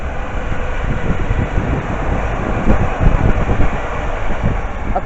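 Two British Rail Class 350 electric units couple together and run through a suburban London station, a steady close rumble of wheels and rails with wind buffeting the microphone, building slightly toward the end.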